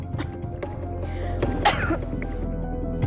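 A person with a cough that has lingered for two months coughs and clears the throat in a few rough bursts, close and fairly loud over a steady low hum.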